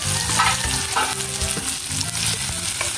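Onion and ginger sauté in a hot pan for squid adobo, giving a steady close sizzle with repeated scraping stirs throughout.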